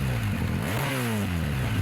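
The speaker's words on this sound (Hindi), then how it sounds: "और वो है एग्जॉस्ट नोट। सुनिए ज़रा ध्यान से" A BMW R 1250GS motorcycle sits at standstill while its exhaust note rumbles steadily and close, with a couple of rising and falling revs blipped partway through, no talking over it.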